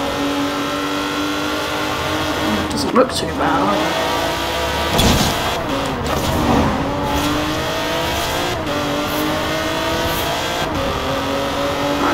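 Engine of an Alfa Romeo Stelvio Quadrifoglio SUV driven in Forza Horizon 4, a steady loud drone that rises and falls as it revs, with brief bumps and someone talking over it.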